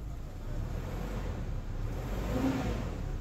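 A car engine idles steadily after starting, a low continuous rumble with a slight rise in revs near the end, no voices.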